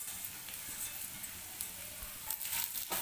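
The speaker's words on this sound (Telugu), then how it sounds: "ఇప్పుడు ఇవన్నీ కూడా ఫ్రై చేసేసుకోవాలి." Coriander seeds, cumin and fenugreek seeds fry in a pan with a soft, steady sizzle and faint crackle, quiet and close, a few light stirring sounds toward the end, no speech.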